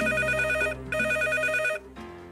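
A telephone rings on the TVN7 game show Apetyt na kasę, two loud electronic ring bursts in quick succession followed by a softer tone, with no talk over them.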